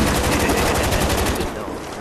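An RPK light machine gun firing in Call of Duty zombies mode, a loud, close, continuous stream of rapid shots that fades slightly at the end.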